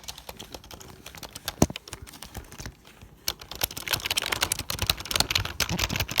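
Keys on a Logitech MK250 keyboard are typed close up, an irregular run of light plastic clicks that starts sparse and grows into quick, dense bursts.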